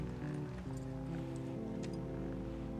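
Horse hooves clip-clop at an unhurried pace in a scene from The Last of Us. The steady, soft thuds sit under sustained music.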